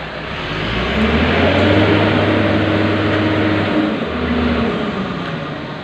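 A truck moves along a street, its engine droning low and rising as it accelerates past close by, then easing off, steady and loud with no talk.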